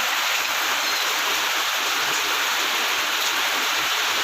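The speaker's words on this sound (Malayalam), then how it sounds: "മഴ" Rain pours down outside in a constant, dense rushing hiss with no breaks or distinct drops, steady in level throughout and without any talk.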